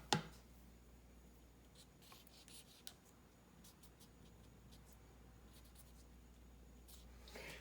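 A pen or pencil writes on scratch paper in quick, soft scratching strokes, faint and close, with a couple of light taps along the way.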